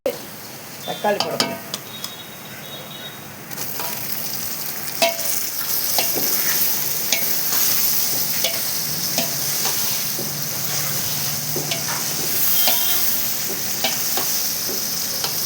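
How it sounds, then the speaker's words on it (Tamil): Tomatoes sautéing in a large pan for a 4 kg vegetable biryani on a gas stove: a steady close sizzle with repeated clinks and scrapes of stirring, no voices. "இப்போ நான் தக்காளி போட போகிறேன்."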